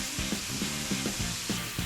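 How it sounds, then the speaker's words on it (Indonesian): Spices sautéing in hot oil in a wok give a steady, close sizzle and crackle that runs the whole time, with faint repeated stirring or scraping strokes and no talking. "Emak teh mau mulai numis ini."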